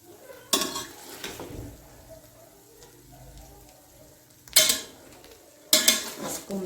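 A spoon stirs rasgulla into zarda sweet rice in a pot, giving a few sharp metallic clanks against the pot between quiet, soft scraping and mixing sounds.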